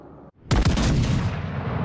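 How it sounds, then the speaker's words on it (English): Heavy gunfire in a video game, a brief drop then a loud burst of overlapping shots and booming blasts that roll into a sustained rumbling barrage. "I guess we gotta fire the guns at some point."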